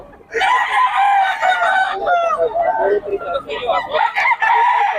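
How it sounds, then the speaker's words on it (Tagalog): Roosters at a market crow loudly and continuously, several birds overlapping close by with some clucking, in a busy outdoor setting with people talking. "ang daming manok ngayon, mga boss"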